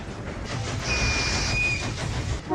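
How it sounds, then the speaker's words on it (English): Steam train running along the rails with a sustained steam whistle blowing through the middle, over a steady rumbling, hissing chug; loud and close throughout. "I hear another train behind us."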